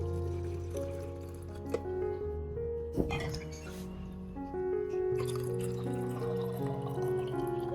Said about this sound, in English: I'll prepare a spray bottle and scoop the prepared solution into it.